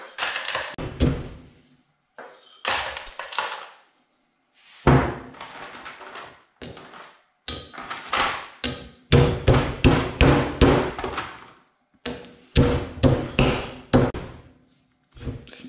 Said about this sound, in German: In der ersten Linie müssen wir natürlich diese Beulen einfrieren, damit wir die auch mörsern können.